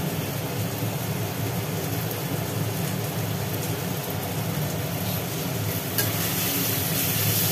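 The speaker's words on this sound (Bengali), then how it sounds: "এখনো নাড়তে হচ্ছে?" Food being stirred in a sizzling pan during Bengali home cooking, a dense steady hiss with faint scraping, continuous and close with no talking.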